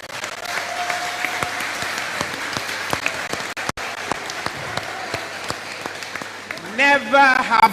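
An audience at the Ashanti Festival applauds, a dense, steady wash of clapping heard from among the crowd, with someone speaking loudly over it near the end.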